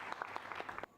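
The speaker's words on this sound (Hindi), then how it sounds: "जोरदार तालियां।" Audience applause at a televised Urdu singing competition, a brief burst of clapping that cuts off sharply near the end.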